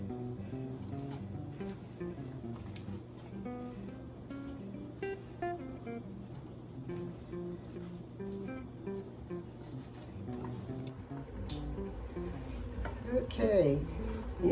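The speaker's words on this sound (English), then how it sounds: "caramelizing the onions. So we'll just stir this." Onions caramelizing for French onion soup sizzle softly in a pot as a spoon stirs through them, with light scraping over a steady hum and background music.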